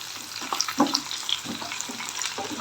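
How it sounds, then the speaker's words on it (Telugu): Five green chillies frying in a pan for a tomato capsicum gravy, giving a soft steady sizzle with light stirring scrapes, close up and without speech. "ఇప్పుడు ఇందులోకి కొంచెం లిటిల్ బిట్ అంటే ఒక 5 పచ్చిమిర్చి తుంపు అయితే వేసుకుంటున్నాం, స్పైసీ కోసం"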